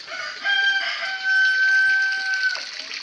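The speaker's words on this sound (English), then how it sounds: "we have chickens" Chickens on an African aquaponic farm: a rooster crows loudly and clearly at close range, with clucking fowl around it and no talking.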